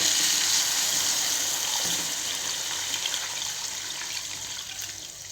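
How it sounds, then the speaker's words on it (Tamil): Two tumblers of water pour into a pan of broccoli soup, a steady broadband splashing rush that fades gradually over several seconds. "இப்போ நான் இது கூட 2 டம்ளர் தண்ணி ஆட் பண்ணிக்கிறேன்."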